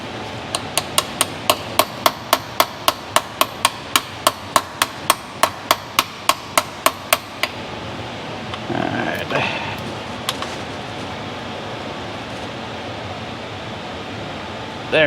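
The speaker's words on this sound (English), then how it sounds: "Get my hammer out here." A hammer strikes a part while working on a 2010 Chevrolet Silverado 1500, about twenty sharp, evenly spaced metallic blows over seven seconds, followed by softer rustling and handling noise.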